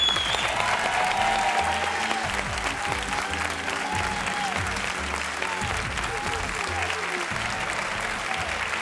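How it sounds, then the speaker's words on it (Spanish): A studio audience at La Sexta's El Intermedio applauds the show's writing and editorial team: a full, steady wash of clapping that holds evenly for about nine seconds. "voy a pediros un fuerte aplauso para todo el equipo de guión y redacción del intermedio, por favor"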